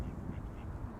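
Ducks quack near an airport, a steady low rumble of calls filling a single second at moderate, constant loudness.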